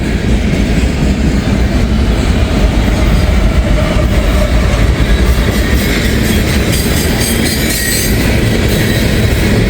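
A CSX freight train with a DPU locomotive rolls past close by, a loud, continuous rumble of rail cars with rhythmic clicking wheels and occasional squeal throughout, no talking.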